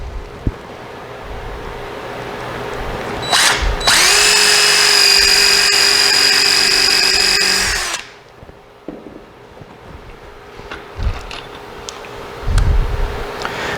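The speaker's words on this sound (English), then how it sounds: "kind of pre-drilling them." Power drill pre-drilling screw holes in a wooden squirrel feeder frame, a quick burst and then one sustained four-second whine at steady speed, loud and close, followed by quiet handling knocks.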